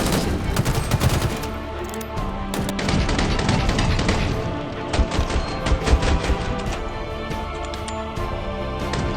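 Dense, continuous gunfire from a secondary weapon in the Halo Infinite video game crackles loudly throughout, with rapid overlapping shots and impacts and no voice over it.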